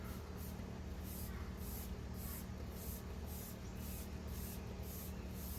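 A spray bottle mists K&N filter oil onto a 2018 Silverado 5.3's engine air filters in repeated short bursts, faint hissing pulses over a steady background.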